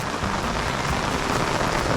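Heavy monsoon rain pours down steadily in a Konkan village, a dense, even roar of drops on surfaces with no talking.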